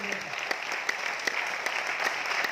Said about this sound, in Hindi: ताली जोरदार बजाएंगे